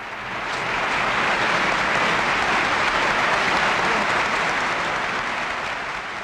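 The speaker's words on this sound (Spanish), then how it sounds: "La aprobación del proyecto fue acogida con una larga ovación." A long ovation fills the Spanish parliament in 1976 after a bill passes, dense sustained applause from a large chamber, steady and loud throughout with no voices.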